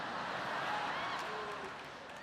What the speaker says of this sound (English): That was bigger than the Ohio applause.